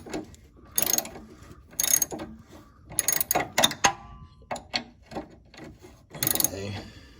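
A ratchet wrench tightens a bolt on the rear stabilizer sway bar of a 2007 Hyundai Sonata. It makes close, sharp bursts of rapid clicking, with short pauses between the turns.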